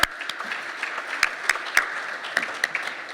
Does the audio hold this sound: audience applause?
yes